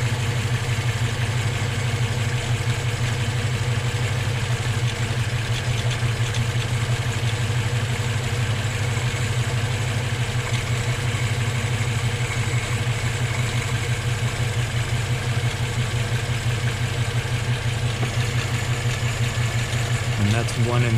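A Honda B18 engine fitted with a Weber 32/36 carburetor idles close by with a steady, even, low rumble that holds throughout.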